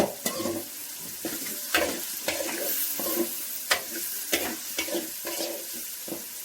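Fish and tomatoes fry in hot oil in a home kitchen, a constant close sizzle broken by the repeated scrape and clack of a spoon stirring the pan. There is no talking.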